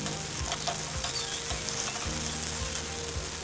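Green chillies fry in hot oil in a pan, a steady close sizzle with regular stirring scrapes every half second or so, no voices.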